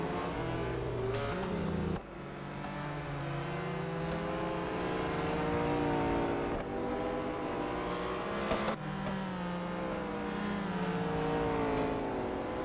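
A McLaren 765 LT in the racing game Real Racing 3 roars at high revs, pitch sweeping up and down through gear shifts as it races, loud and continuous.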